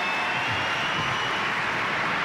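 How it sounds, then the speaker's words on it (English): Audience applause greeting Mike Orsini as he is called up, a dense steady wash of clapping that holds evenly from start to finish with no voices standing out. "Give this man a round of applause"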